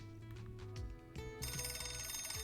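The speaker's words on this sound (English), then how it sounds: "As Dante pointed to his desk, his phone rang" A phone rings in the Piofiore: Fated Memories video game: a bright, repeating electronic ring that starts partway through and rings steadily over the game's background music.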